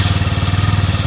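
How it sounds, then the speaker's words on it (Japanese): A SYM50 scooter's small engine runs steadily just after a kick start, with a newly fitted muffler. It gives a loud, close, even putter with fast regular pulses and no talking. "これでエンジンをかけてみようね。"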